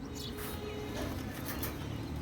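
Low pigeon coos murmur faintly under steady background noise at a pigeon market in Khulna, with a few brighter chirps overhead.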